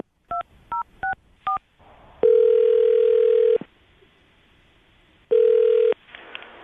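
Telephone keypad tones beep four times in quick succession, then a long ringback tone sounds, falls silent, and repeats; clear and close with no talking.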